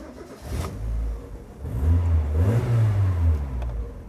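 Car engine running after a spark plug replacement, revving up and settling in close, steady surges with a smooth, even idle underneath and no voices.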